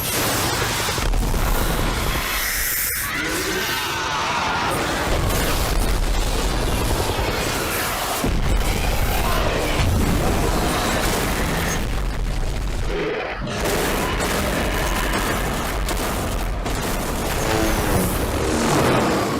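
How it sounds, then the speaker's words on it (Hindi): Gunfire and explosions from a Hollywood movie dragon attack scene, dubbed in Hindi: loud, sustained booming blasts and volleys of shots that crowd together for nearly twenty seconds, with a brief lull before the barrage resumes. "वो गिर चुका है, सभी उसे घेर लो। वो बचने ना पाए। गोलियां चलाते रहो।"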